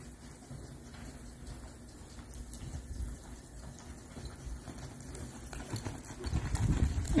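A horse loping in a barrel and pole riding session, soft rhythmic hoofbeats at a moderate distance under steady background noise, growing louder toward the end.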